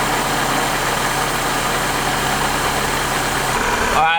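Mazda MX5 NA6 engine idling roughly, a steady low mechanical drone with a slightly uneven pulse, close and constant, heard alone.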